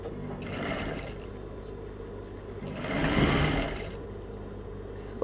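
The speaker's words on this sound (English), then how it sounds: "So as I'm sewing it," A sewing machine stitches an invisible zipper in steady mechanical bursts, humming at close range and swelling louder mid-way before easing back.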